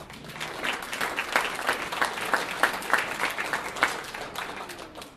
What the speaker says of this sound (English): Let's hear it for Brandon.